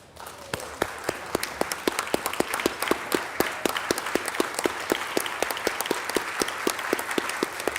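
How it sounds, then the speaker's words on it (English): An audience at a talk on urban climate policy applauds, first as a sparse scattering of claps, then as steady, fairly close clapping that continues to the end. "If you could please stand and take one round of applause."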